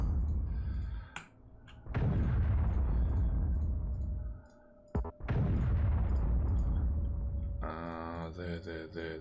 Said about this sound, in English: we're going to use artillery to soften up the targets